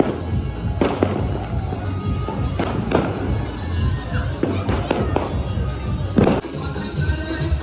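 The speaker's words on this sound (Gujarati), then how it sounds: "જો ફટાકડા ફૂટવાનું ચાલુ થઈ ગયું" Firecrackers going off during the Uttarayan kite festival, a series of sharp cracks and bangs at varying distances, some close and loud, over a murmuring outdoor crowd with voices nearby.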